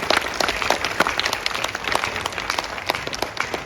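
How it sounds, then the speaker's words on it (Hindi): Hearty applause from the audience at a Hindi comic poetry gathering in Moscow welcoming a poet, with lively, uneven clapping and distinct individual claps standing out near the listener. "जोरदार तालियों के साथ उनका स्वागत कीजिए"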